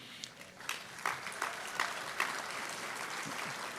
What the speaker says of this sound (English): you can save the applause